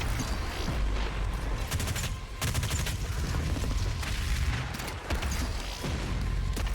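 Gunfire in Doom Eternal on Ultra Violence difficulty, with dense rapid bursts of shots and booms layered over loud game action and keeping up with only brief lulls.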